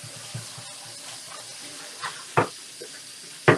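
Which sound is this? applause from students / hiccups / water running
water running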